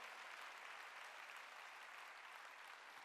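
Congregation applauding during a Wednesday church worship service, a steady, dense wash of many hands clapping throughout with no pause.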